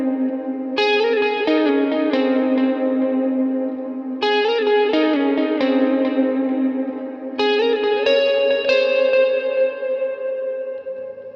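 Electric guitar with overdrive, played on the neck pickup through a Helix modeler with effects, chiming chords for a worship song chorus. Each strummed chord rings out and sustains with a shimmering, effected tone, and no voices are heard.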